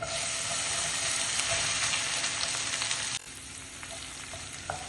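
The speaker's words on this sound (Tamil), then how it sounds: "வெண்டைக்காய் நூலெல்லாம் போய் நல்லா ஃப்ரை ஆகணும்." Small chopped pieces of okra fry in hot oil in a pan, giving a loud, steady crackling sizzle that drops to a quieter fizz partway through, with occasional stirring clicks and no talking.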